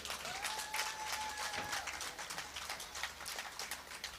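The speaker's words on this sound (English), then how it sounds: "I request to audience to give huge and humble claps to our chief guest" An audience at an international management conference applauds the chief guest, a steady dense patter of many hands clapping for several seconds with a faint tone and murmur underneath.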